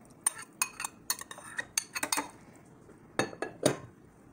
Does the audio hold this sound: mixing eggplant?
yes